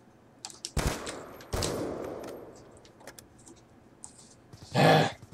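Gunshots from an SVU rifle in a first-person shooter free-for-all match: two sharp cracks with short decaying tails early on, then a louder, longer burst near the end, with faint clicks between.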